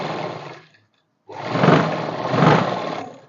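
A sewing machine stitches around the curve of a kurti sleeve in two bursts of whirring, with a brief silent pause between them. The machine sounds close and fairly loud, with no voices.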